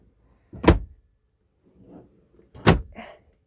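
A drawer in the bedroom of a Majestic 23A Class C RV slides and thuds twice, two sharp close knocks separated by a softer rustle, with no talking.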